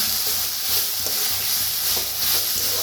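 Tomato and spring onion roast in a pan for a Maharashtrian black bean amti, making a constant, moderate sizzle with soft, regular stirring taps.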